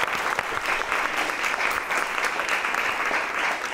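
An audience at a spelling bee competition claps steadily and densely, a loud sustained round of applause filling the hall with no break.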